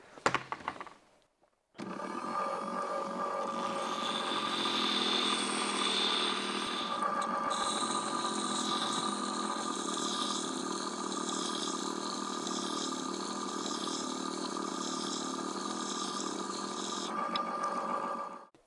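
A Weldinger NSM 200 Vario wet grinding machine switches on and runs steadily for a long stretch, a constant motor hum with a grinding whine, the tone shifting slightly midway, then it shuts off.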